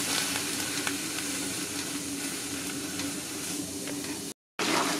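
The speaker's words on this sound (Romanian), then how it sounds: "Le punem la sotat," Diced bell peppers sautéing in a pan without oil, giving a continuous even sizzle with light stirring scrapes, close and steady until a short cut of silence near the end.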